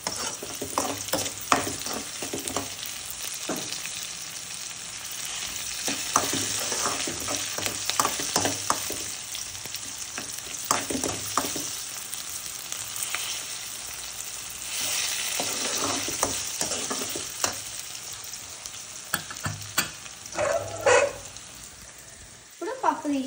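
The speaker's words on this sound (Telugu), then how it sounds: "ఇప్పుడు సిమ్లో పెట్టుకొని కలుపుకోవాలి." Brinjal dal being stirred in a pan over a low flame, with a steady soft sizzle under repeated scraping strokes of a spoon, close and moderately loud throughout with a few sharper clinks near the end.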